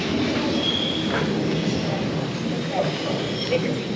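A metro train rumbles steadily along the tracks with a constant roar and faint wheel squeals, heard from inside the carriage, with no voices.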